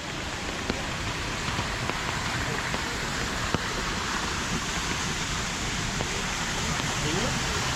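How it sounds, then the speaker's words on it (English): Rain falls steadily outdoors at Walt Disney World, a continuous close hiss with faint drips and taps scattered through it. The downpour holds an even loudness throughout. "The iguana's enjoying the rain today."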